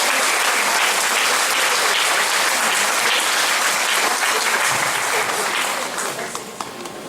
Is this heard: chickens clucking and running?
no